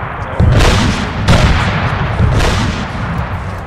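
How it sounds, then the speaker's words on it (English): Gunfire in a military video game booms in three heavy, close shots spaced roughly a second apart, each trailing off into a rumbling echo, with no talk over them. "A couple of stray shots though."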